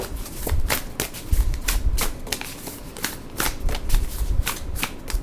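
Tarot cards are shuffled by hand nearby in repeated riffling bursts with crisp papery flicks and soft thumps, steady and fairly quiet with no talking.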